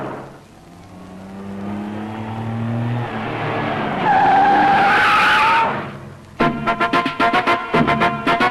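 A car's engine whines and rises as it pulls away, ending in a long loud tire skid, followed by a rapid series of sharp rhythmic knocks.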